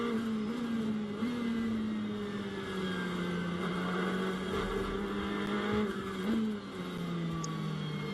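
A Ferrari GT race car from the AF Corsa team runs on the Paul Ricard circuit during GT World Challenge Europe qualifying, its engine droning loud and steady as it passes across the start-finish line.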